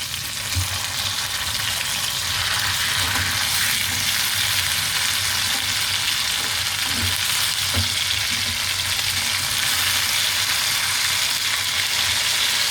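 Mutton neck chops fry in hot oil over a medium flame, a loud, steady sizzle with occasional stirring, heard alone without talk.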